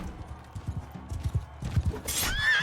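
In Mount & Blade 2: Bannerlord, a horse's hooves clop in a quick galloping rhythm, followed by a loud, shrill neigh near the close.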